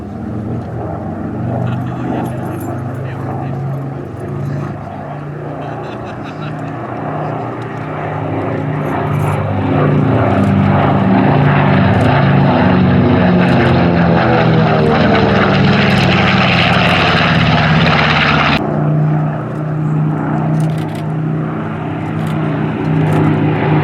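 A vintage warbird propeller aircraft, one of those restored for the film Catch-22, roars past at an airshow, a loud steady engine drone swelling and holding close for over twenty seconds with a faint voice beneath.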